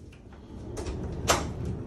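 A hotel room door at the ITC Rajputana in Jaipur swings with a soft creak and shuts with a dull thud, close by and moderately loud over low room noise.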